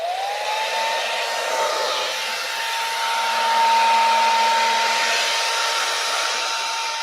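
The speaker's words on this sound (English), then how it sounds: "Now I am going to take my hair dryer and blow out some of this paint." A hair dryer blows steadily on poured acrylic paint, a loud continuous whine and airy rush that rises slightly in pitch at the start and swells midway, with no talking.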